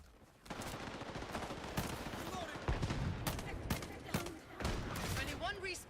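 Gunfire rattles through a video game battle, with sharp broadband shots and bursts of automatic fire repeating across the stretch over a steady din, while game voices speak over the fighting.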